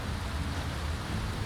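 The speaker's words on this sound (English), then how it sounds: "Out in the rain." Steady rain in the video game Skyrim, an even, continuous hiss with a low rumbling bed and no breaks, moderately loud and with no voices.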